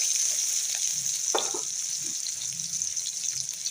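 Tomato frying in mustard oil with nigella seeds and chilli gives a steady, bright sizzle, with a couple of brief stirring clatters partway through.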